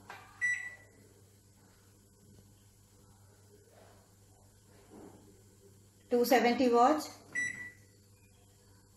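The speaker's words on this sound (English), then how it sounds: "set the microwave on" A microwave oven set to micro and convection mode to roast chicken gives a steady low hum, with a person talking in short bursts over it.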